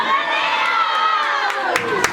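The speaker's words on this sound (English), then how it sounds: "I want you to yell out their names on 3." Audience at a Samoan Siva Mamana dance group recital yelling out dancers' names together, a dense crowd roar with high children's shouts and cheering, loud and sustained for about two seconds.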